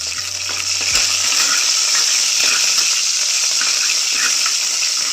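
Curry leaves, a Byadagi chilli and spices fry in hot oil for a tempering for soppina saaru, a leafy-greens sambar, giving a steady, close, bright sizzling hiss that runs unbroken throughout with no talking.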